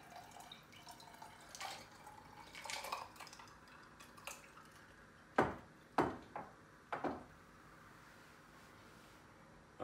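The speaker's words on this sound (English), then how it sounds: "now what we're going to do now is pour in our beautiful sangria here" Rosé mixed berry sangria is poured, with a soft liquid trickle and drips, then several sharp glassy clinks and knocks close by.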